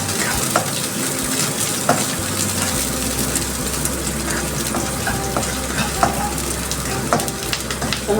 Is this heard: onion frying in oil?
yes